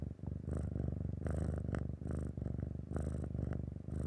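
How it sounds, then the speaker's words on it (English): A cat purrs steadily and close by for about four seconds, a continuous low rumbling throb that swells and dips with each breath, with no voices over it. "can you hear the purring?"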